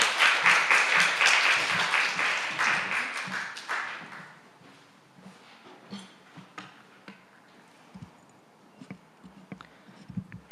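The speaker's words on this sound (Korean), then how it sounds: "나오실 때 박수 부탁드립니다" Applause from a young adults' Sunday church service congregation, brisk and moderately loud at first, then fading within a few seconds to scattered claps, taps and faint movement.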